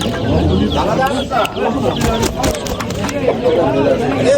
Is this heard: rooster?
yes